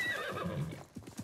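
A horse whinnies briefly with a rising, shaky call in Assassin's Creed Mirage, followed by a few muffled hoof thumps, sounding like game audio.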